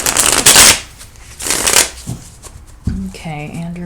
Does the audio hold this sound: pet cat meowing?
no